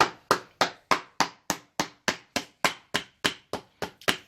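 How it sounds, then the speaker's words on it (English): A mallet hammers steadily while making homemade slippers on a Birkenstock footbed: about fifteen sharp, evenly spaced strikes, each with a short decay, close and loud with no voices. "So you get a hammer, your mallet."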